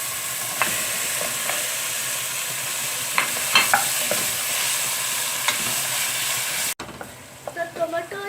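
Tomatoes frying in oil with ginger garlic paste for Persian mutton dum biryani, a steady close sizzle with a few sharp clicks as a spoon stirs the pan.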